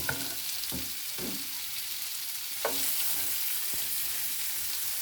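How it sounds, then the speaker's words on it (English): Shrimp fry in a pan with a steady broadband sizzle, broken by several sharp scraping stirs of a utensil, one louder jolt near the middle; no voices. "So, shrimp is cooking."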